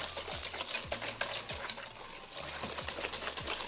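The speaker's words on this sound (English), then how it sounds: "And now give that a good mix." A utensil stirs cookie dough of egg and vanilla bean paste in a bowl for raspberry cheesecake cookies, giving soft rhythmic scrapes and taps about every half second, quiet and close.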